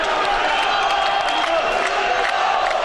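A dense crowd of volleyball fans fills an arena with steady cheering and roaring, a constant wall of noise from start to finish with no clear breaks.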